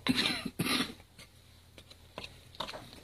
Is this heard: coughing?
yes